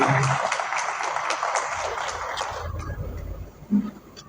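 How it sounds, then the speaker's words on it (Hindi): Audience applause at a dialysis unit inauguration held by a charitable trust in Kasur; dense clapping sounds fairly near for about two and a half seconds, then thins and fades, leaving low rumble and a brief thump near the end. "इनके लिए ना ज़रूर तालियां होनी चाहिए"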